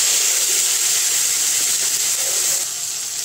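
Tomato puree sizzling in hot oil in a pan for a flour-based vegetarian dish, a loud, steady, close hiss that holds the whole time and eases slightly near the end.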